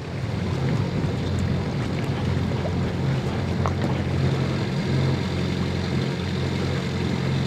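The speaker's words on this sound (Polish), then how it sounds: "no wieje nawet całkiem sensownie, bym powiedział" Steady wind blowing over a sailboat under way, a constant broad rush with low rumble and no voices.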